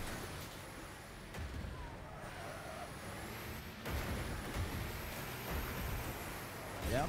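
A bus in the Wreckfest racing game rumbles past with a hissing air brake and heavy engine noise, set against a constant background roar of other cars on the track.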